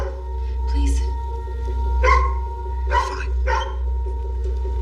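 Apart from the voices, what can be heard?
dog barking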